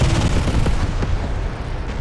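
Rapid cannon fire from a Su-35 heavy fighter jet in a flight combat video game, a dense loud burst of shots running continuously for about two seconds.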